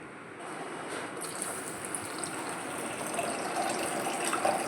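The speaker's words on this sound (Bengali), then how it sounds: "একটু গরম জল দিয়ে সেদ্ধ ডালটাকে একটু পাতলা করে নিলাম" Hot water poured into boiled chana and arhar lentils to thin the dal, a continuous rushing pour that grows steadily louder over a few seconds with no voices.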